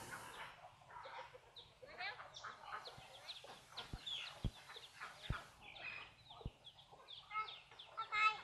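Chickens clucking around a rural Thai home, faint and scattered across the stretch, mixed with soft talking and a few sharp knocks in the background.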